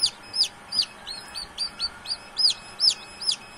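Newly hatched chicks peep steadily in a rapid series of high, clear chirps, fairly close, with faint background noise and no voices.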